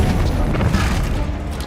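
Bombarda explosion spell going off in the Hogwarts Legacy video game: loud, dense, rumbling blasts that fill the whole moment with no pause, heavy low end and crashing debris-like noise on top.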